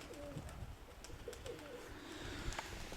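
Pigeons coo softly in short, low, repeated calls against a quiet outdoor background of wind noise.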